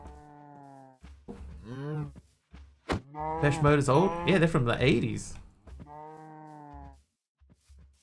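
A cow in the video game Minecraft lets out several drawn-out moos, close and clear, alternating with a person talking casually between the calls.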